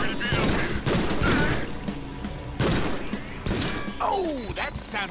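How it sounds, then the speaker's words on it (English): Grenade explosion in a Deadpool video game: a few heavy, loud blasts and crackling bursts spread across the moment, with game voices chattering over and between them. "Hey, that's a grenade."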